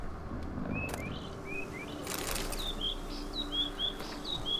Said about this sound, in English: Oh, the birds sound cool.